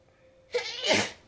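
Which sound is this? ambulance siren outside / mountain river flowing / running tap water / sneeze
sneeze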